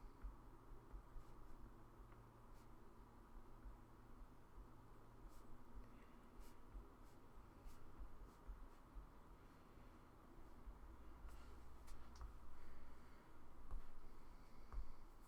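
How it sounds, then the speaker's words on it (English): A pencil sketches on paper in soft, faint scratching strokes with small taps, close and quiet over a low background hum. "I'm sketching back here too"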